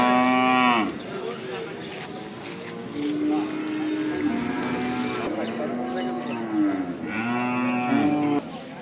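Cattle at a rural cattle market low loudly nearby, with long drawn-out moos at the start and again near the end, while people talk over the steady crowd noise in between.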